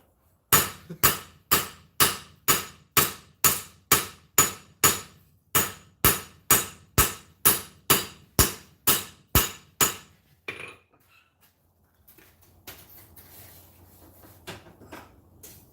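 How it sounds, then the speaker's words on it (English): A rounding hammer strikes metal at a blacksmith's forge in a steady series of about twenty sharp, ringing blows. The blows stop after about ten seconds, leaving quiet shop noise. "that's the rounding hammer"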